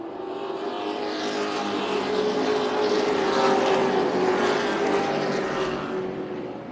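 Race cars circle Tucson Speedway on championship night, a blended engine drone from several cars swelling and fading as they pass, steady and moderately distant, with no talking.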